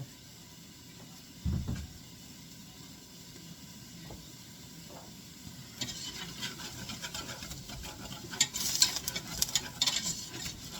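Flour browning with onions in a soup pot, stirred with soft scraping and a faint hiss, quiet at first, then louder, denser scraping and sizzling toward the end.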